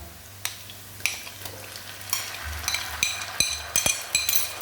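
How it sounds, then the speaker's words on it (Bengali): Ground ginger, garlic, tomato and green chilli paste fries with browned onions in a pan for a goat meat curry. It makes a steady sizzle with repeated scraping and clinking stir strokes close by. "পেঁয়াজটা লাল লাল করে ভাজা হয়ে গেছে এবার এর মধ্যে আমি দিয়ে দেবো আদা বাটা আদা বাটা রসুন বাটা টমেটো বাটা কাঁচা লঙ্কা বাটা"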